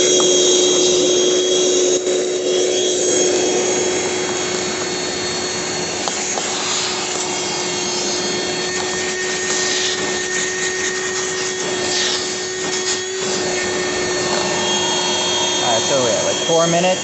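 A Ryobi 18V cordless one-gallon shop vac runs continuously with a loud, steady whining motor hum and airy rush close by, and a voice talks briefly over it.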